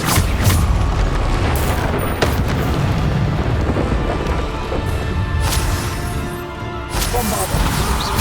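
Booming blasts of the Bombarda spell in Hogwarts Legacy hit amid dense, loud combat noise. Crashes and impacts run continuously throughout.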